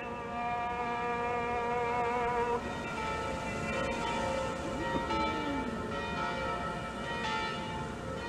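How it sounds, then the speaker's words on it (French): Church bells of Jerusalem ringing together, a steady wash of overlapping tolling tones that carries through the whole span, somewhat distant and sustained with no voices. "leur répondent toutes les cloches de toutes les églises."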